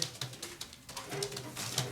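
Racing pigeons of the Jansen line cooing softly in a low, repeated rhythm, several birds close by with faint background noise.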